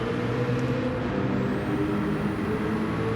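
A tuned Nissan Skyline race car in Gran Turismo 7 drives along the Tokyo Expressway. Its engine gives a loud, steady, even drone that holds throughout, with no voices over it.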